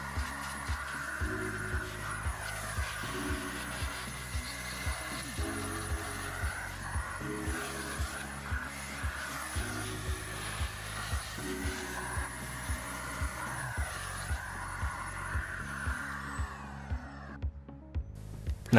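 Air is blown over the back of a dusty desktop computer to clear its ports, a steady hissing blast running close and fairly quiet, with a repeating low thumping hum underneath before it cuts off near the end.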